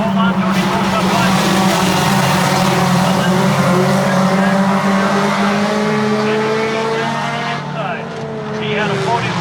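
Pure stock cars race at Monadnock Speedway, loud engines roaring and shifting pitch as the cars jostle for position, with commentary talking over the racing.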